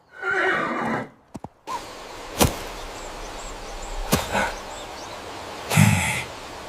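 A horse whinnies loudly at the start, followed by sharp whooshing swishes and thuds, then a second shorter neigh near the end.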